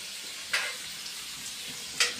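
Masvadi frying in hot oil, a soft steady sizzle with two sharper crackling pops rising above the bubbling.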